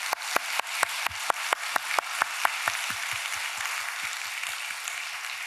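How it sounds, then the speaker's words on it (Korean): Applause from a church congregation, opening with sharp distinct claps that build into dense, steady clapping which continues evenly to the end. "성도들이 박수로 축하하겠습니다."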